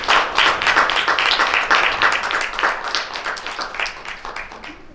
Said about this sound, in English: Please guys, a big round of applause.